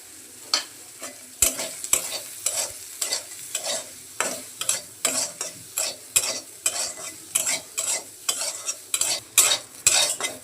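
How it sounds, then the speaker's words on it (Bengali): Soybean chunks frying in a pan with salt and turmeric, sizzling steadily while a spoon stirs and scrapes in a regular rhythm of distinct strokes, close and fairly loud, with no voices. "সোয়াবিনগুলো ভাজা হয়ে গেছে"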